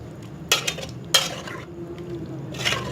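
Dahi bhalla being stirred together in a bowl, with a few sharp spoon-against-bowl scrapes and soft wet mixing sounds spread over a few seconds, near and fairly quiet with no talking.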